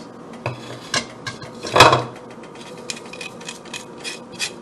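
A spoon stirs spices and thyme in a metal pot, with a clear clink and a louder scrape in the middle among lighter taps and rattles, and no one talking.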